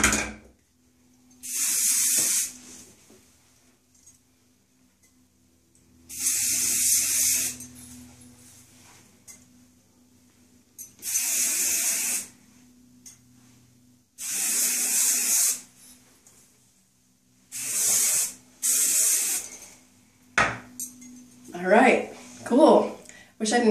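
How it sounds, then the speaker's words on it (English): Hairspray hisses onto curled hair in several long bursts separated by pauses, loud and close, with a person talking briefly near the end. "I'll spray it."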